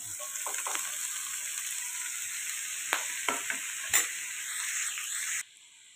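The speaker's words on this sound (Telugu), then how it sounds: "టమాటాలు వేసి మగ్గించుకోవాలి." Tomatoes softening in a hot pan with onions, a steady close sizzle and hiss with a few spoon scrapes and stirring knocks, cutting off abruptly near the end.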